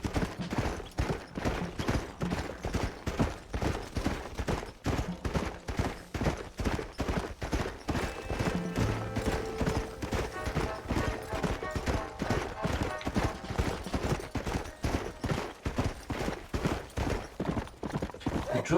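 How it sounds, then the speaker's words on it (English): Horse hooves galloping in the video game Red Dead Redemption, a fast, steady, drumming run of clip-clop beats throughout, with a few brief louder bursts mixed in. "The drumming of the horse feet sounds relaxing."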